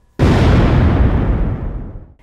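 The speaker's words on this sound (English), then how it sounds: "We see and hear the blast in real time." A loud explosion blast from a film: a sudden sharp boom followed by a deep rumbling roar that slowly fades over about two seconds, with no voices.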